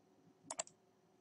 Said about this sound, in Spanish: si hago doble clic aquí